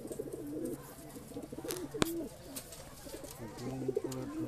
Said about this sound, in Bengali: লড়াই করছে নতুন নতুন পায়রা